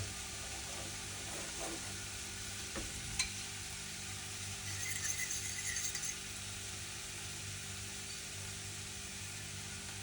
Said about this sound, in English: So a French omelet you want to cook pretty slowly.